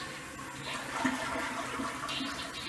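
A toilet flushing with blue-tinted water, a steady broadband rush of draining and refilling water that holds evenly for the whole stretch, heard close by.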